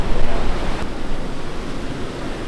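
Ocean waves break and surge up a beach at Wineglass Bay, Tasmania, a loud close roaring wash mixed with wind buffeting the microphone.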